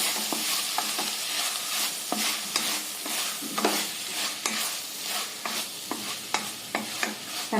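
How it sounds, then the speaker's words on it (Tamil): Fish stirred into onion and tomato in a pan for a tuna kothu curry: loud, close sizzling with rhythmic spatula strokes scraping the pan every second or so, and no voices. "நம்ம கழுவி வச்சிருக்கிற மீனை இதோட சேர்த்திடலாங்க. நல்லா பெரட்டி விடலாங்க."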